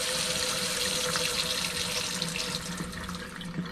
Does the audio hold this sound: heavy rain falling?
no